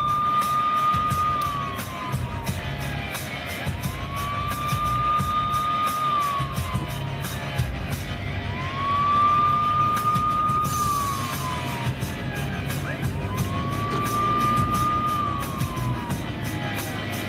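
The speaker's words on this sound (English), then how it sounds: "The police siren doesn't ever stop." A police car siren wailing in slow, repeated rising and falling cycles, heard from inside a car on a delivery drive, steady and fairly prominent over road and engine rumble.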